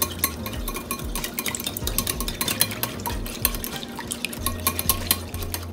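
Egg and milk being beaten in a bowl, with a steady run of quick clinking strokes of a utensil against the bowl, fairly close and continuous with no talk.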